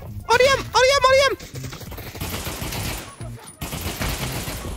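A person shouts briefly, then sustained rapid gunfire from a weapon in a virtual-reality shooter game takes over. The shots are loud and close, coming in dense bursts with a short pause near the end.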